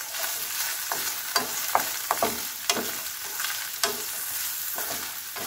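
Carrots stir-fried for sotanghon guisado, a steady sizzle in the pan broken by repeated sharp scrapes and taps of a spatula, close up with no voices.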